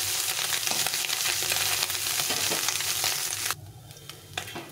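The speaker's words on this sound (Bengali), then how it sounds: "তো আমি এইভাবে ভেজে নিচ্ছি।" Small chun fish fry in a pan until crisp and crumbly, a dense, close crackling sizzle that runs steadily and then thins out abruptly near the end.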